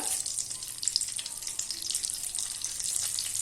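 Cumin seeds sizzling in hot melted butter in a pan for butter chicken, a bright, steady crackling hiss close up, with no voices.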